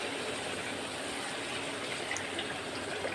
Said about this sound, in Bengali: আমি এখন জল দিয়ে দেবো, মাপ মতন জল দিয়ে দিতে হবে